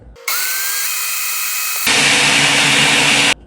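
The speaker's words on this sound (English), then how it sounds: "So here we go, let's blend it." A blender whirs through dates and wet ingredients for vegan chocolate banana oat muffins. A steady close motor whine starts, then jumps to a louder, rougher grinding roar before cutting off abruptly, with no talking.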